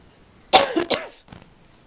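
One person at a city council meeting gives a short, close, harsh cough in two or three bursts, followed by quiet.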